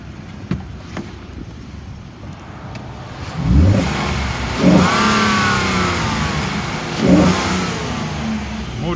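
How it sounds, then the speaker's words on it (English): A 2011 Ford F-150 XL extended cab pickup with automatic transmission idles, then its engine revs up sharply three times in succession, each rise and fall close and loud over the steady idle. "I'm gonna rev it up a little bit so you can hear it."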